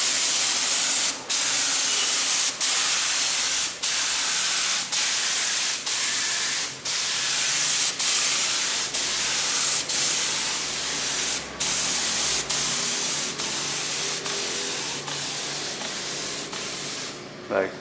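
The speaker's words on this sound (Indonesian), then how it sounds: "Sekarang kita semprot 15 ml pertamanya." A spray gun mists pretreatment liquid onto a low-cost t-shirt, its steady hiss running throughout and broken by regular short pauses about once a second, close and fairly loud.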